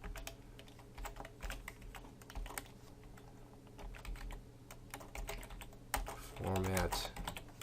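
PHP code being typed on a computer keyboard, with steady rapid key clicks in bursts, near and moderately quiet, with a brief low hum near the end.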